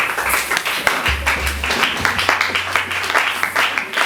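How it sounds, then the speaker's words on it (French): A church congregation claps and applauds during a Sunday service, steady rapid clapping from many hands filling the room for the whole stretch, with a low hum beneath. "Est-ce que tu peux acclamer pour la parole?"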